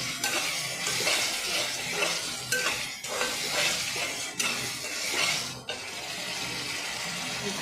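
Green peas go into a pan of well-fried spices for a Bengali cauliflower dish and get stirred in, giving a steady close sizzle with scraping stirs and a few clatters, with no talk.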